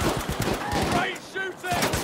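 Rapid automatic gunfire in the video game Battlefield V, multiplayer match, dense overlapping bursts of shots with ringing tails filling the whole stretch, loud and close.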